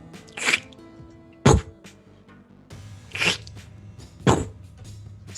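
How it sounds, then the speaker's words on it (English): A giant walking tree stump gives off a weird suction and thump again and again, four soft swelling squelches with dull thuds spaced about a second apart, fairly faint against a quiet background. "It sounds like this weird suction and thump, over and over"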